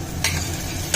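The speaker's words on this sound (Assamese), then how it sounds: "বিলাহীখিনি ভাজি ল'ব লাগিব" Tomatoes fry in a pan for masala soyabean, sizzling steadily while a spoon scrapes through them in two quick stirs.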